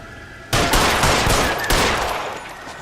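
Sustained burst of video-game gunfire in L.A. Noire, rapid overlapping shots starting abruptly and holding loud and close for over two seconds before tapering slightly, with no talk.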